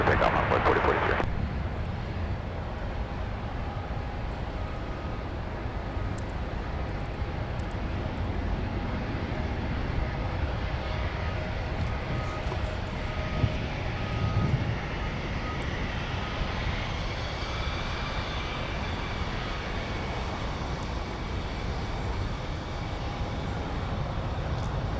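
An Envoy regional airliner takes off from runway 17 at Minneapolis–St. Paul airport, its engines a steady, broad, distant roar that holds evenly throughout.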